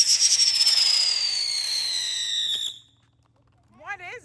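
A firework hisses and whistles loudly for a few seconds, its high shriek sliding downward before cutting out abruptly; a brief voice follows after a pause.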